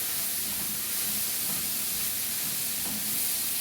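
Washed freekeh being stirred and sautéed in a pan with liver, onion and spices, giving a steady soft sizzling hiss with faint scraping stirs underneath, close and continuous with no voices.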